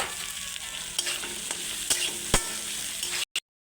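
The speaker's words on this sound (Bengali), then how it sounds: "এবার কেটে রাখা আলু আর চিংড়ি মাছটা দিয়ে ভালো করে আবার একটু নেড়ে নেব" Cut potatoes and prawns being stirred as they fry in a pan for a jackfruit-prawn curry, a loud close sizzle with repeated scraping strokes of the spatula, the sound cutting off abruptly at the end; no one speaks.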